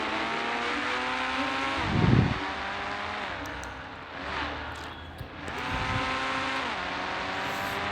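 A Mahindra Scorpio SUV revs while off-roading, its engine climbing and falling through several surges with a loud burst of effort around the middle, over a steady mechanical drone.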